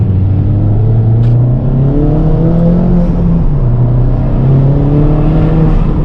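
A loud, deep tuned engine, from a Golf R or Fiesta ST200, drones and rises through the gears in a tunnel, its pitch climbing and dipping in the reverberant, enclosed space.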